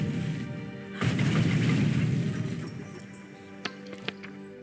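A magic spell in Mages of Mystralia set to explode over and over, heard as a sustained rumbling barrage of booms followed by a few sharp, isolated clinking bursts near the end.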